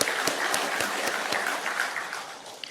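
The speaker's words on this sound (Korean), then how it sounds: "우리 은혜로운 찬양을 해주신 우리 갈릴리 성가대에 감사의 박수를 한번 보냅니다." Steady applause from a church congregation thanking the Galilee choir after a Sunday worship hymn, a moderate, even wash of clapping with a few sharper claps standing out.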